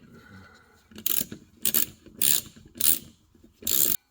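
A ratchet fitted with a 10mm socket clicks through five short, loud, evenly spaced strokes while tightening the clutch pressure plate bolts on a Honda N600, with no talk over it.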